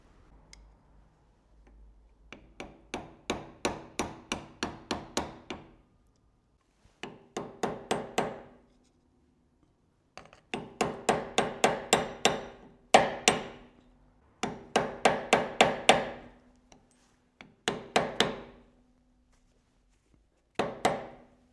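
A hammer strikes a punch on a part for a big house truck build in repeated bursts of quick metallic blows, each run of several sharp ringing taps followed by a pause, loud and close.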